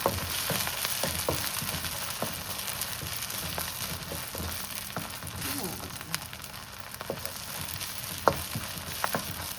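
Onions and tomato fry in a pan for spinach dal, giving a steady, close sizzle with occasional crackles and stirring scrapes, with faint speech briefly in the background.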